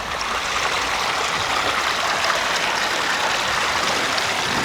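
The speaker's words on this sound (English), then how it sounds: "Pondless waterfall with a small wildlife pond at the top." Water pours steadily down a pondless waterfall in a public park, a constant bright rushing and splashing that stays even and close throughout.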